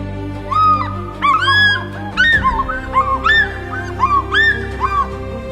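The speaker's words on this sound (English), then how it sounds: "It is the call of the African fish eagle, Zambia's national emblem and a master of the skies." An African fish eagle calls in South Luangwa National Park, Zambia, with a string of loud, ringing, yelping cries that rise and fall, repeated several times in quick bursts and standing alone.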